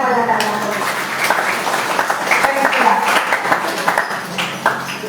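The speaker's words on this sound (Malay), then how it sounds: "Berikan tepukan kepada anak-anak." A classroom full of people clapping steadily for several seconds, loud and close, with a few voices mixed in.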